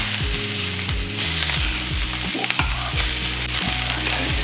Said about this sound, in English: So once your courgettes have started to brown up on one side, just flip them over.